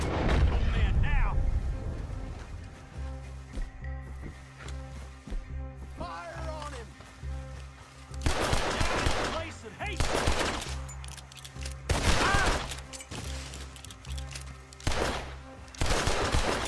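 Gunfire erupts in bursts after a shouted fire order in the Red Dead Redemption 2 video game, loud volleys of shots layered over music and game sound, with heavy clusters of gunshots toward the end.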